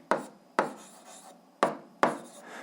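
Four short, crisp strokes of a pen or marker land in quick succession while a maths formula is written out, each a sharp scratch that trails off, close and quiet with no talking.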